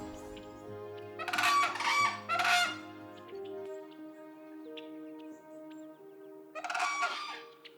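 Loud, trumpeting whooping crane calls ring out in bursts of two or more overlapping voices calling in unison, with sustained tonal droning between them.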